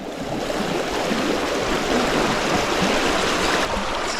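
River running high and fast after winter rains in Tasmania, a loud broadband rush of flowing water that stays steady and close throughout, with no voices.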